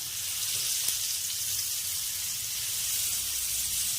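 Paneer tikka pieces with onion and capsicum sizzle steadily on a stove over medium flame, a constant close, even hiss of frying with no talk.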